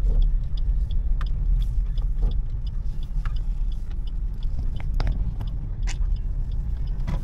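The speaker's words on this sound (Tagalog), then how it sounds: "Nagda-drive na." Car driving along a road, heard from inside the cabin: a steady, low engine and road rumble runs throughout, with scattered small clicks and rustles nearby.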